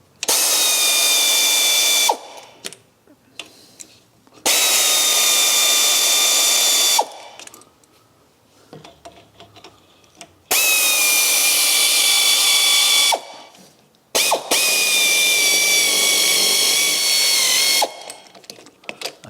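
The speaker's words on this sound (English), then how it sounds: "So let me bolt those down a bit so they don't move out." Power tool driving bolts to fix a rear leaf spring on an MGB GT, loud whirring bursts repeating four times with short pauses and clicks between, close by and alone.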